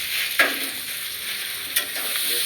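Mutton fat curry sizzles in a pan as it is stirred, a steady hiss close up broken by two brief scraping knocks of the spoon.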